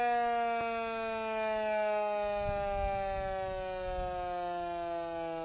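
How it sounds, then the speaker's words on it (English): An original wartime air raid siren, heard at a retro festival, wails in a long steady tone that slowly falls in pitch. A low rumble underlies the middle of the sound. "Let's hear this one. Original wartime siren."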